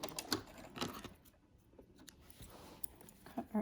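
Scissors snip away excess fabric from a homemade cloth mask, with a few close crisp cuts at the start, a quiet pause, then more faint snipping at the end.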